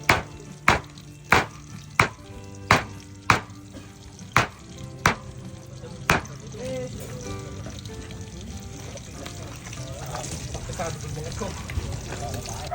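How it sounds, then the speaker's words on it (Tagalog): Liempo, pork belly, sliced on a cutting board: about ten sharp, evenly spaced knife chops, loud and close, then a steady sizzle of frying with people talking over it. "hiwain natin yung liempo"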